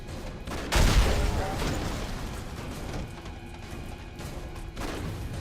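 Gunfire in the video game Afterfall Insanity opens with a loud burst, then continues as scattered shots and impacts under a steady wash of game noise.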